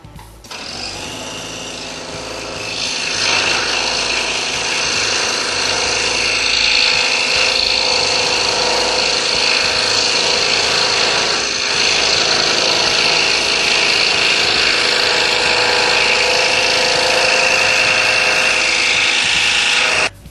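A scroll saw cuts a wooden car pattern wrapped in box tape, giving a steady, loud buzzing whine that runs continuously after a short start-up, with no talking.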